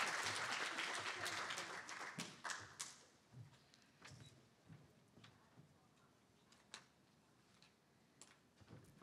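Conference audience applause, fairly dense at the start and then thinning into scattered, fading claps over the rest of the stretch, heard from a distance in a large room.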